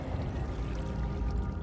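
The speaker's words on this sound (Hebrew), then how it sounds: "אני שומע פה מים" Water flowing and trickling steadily through an underground cave in Minecraft, a continuous close wash of sound with no talking.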